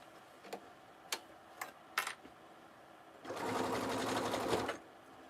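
A sewing machine basting a lining piece in place for a fanny pack runs in one steady, close burst of about a second and a half, after a few soft separate clicks and taps.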